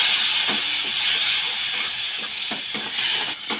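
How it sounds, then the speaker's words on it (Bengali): Ground spices such as cumin powder frying in oil in a pan with a little water added, giving a loud continuous steamy hiss and sizzle broken by a few soft stirring scrapes. "মশলাটা যাতে না পুড়ে যায় ওই জন্য আমি অল্প একটু জল দিয়ে কষে নেব।"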